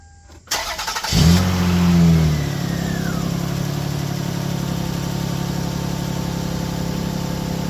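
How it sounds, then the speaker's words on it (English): A 2001 Toyota Solara with an exhaust leak starts up and revs briefly, then settles into a steady, loud, close idle that carries on to the end. "I have a bit of an exhaust leak"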